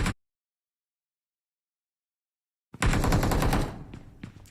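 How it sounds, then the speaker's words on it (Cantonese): Gunfire in a battle royale video game: a brief shot at the start, then silence, then a loud rapid automatic burst that tails off into scattered distant shots. "槍聲。"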